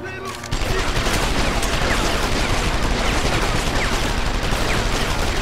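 Sustained automatic gunfire aimed at a wall in Deus Ex: Human Revolution, a dense, loud, unbroken stream of rapid shots that begins abruptly after a brief quieter moment and continues to the end.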